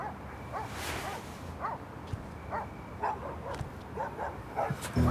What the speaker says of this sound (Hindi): ये कुत्ते क्यों इतना भौंक रहे हैं?